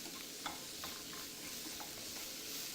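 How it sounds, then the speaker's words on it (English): Spices being stirred in a pan for an Indian omelette, with turmeric, cumin, dried fenugreek leaves and chilli, give a soft steady sizzle and a few light scraping taps, quiet and with no talking. "Give that a quick stir."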